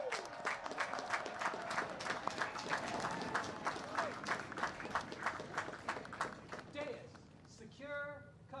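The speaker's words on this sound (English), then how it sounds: "Class of 2020, one more time, round of applause" A crowd applauds the West Point Class of 2020 graduates at their ceremony, dense sustained clapping with some cheering; near the end it thins and a voice begins speaking.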